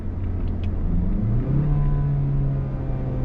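A 2021 Mazda CX-30 Turbo AWD engine drones steadily, then rises in pitch as the throttle opens, a smooth climbing hum heard from inside the cabin without talk.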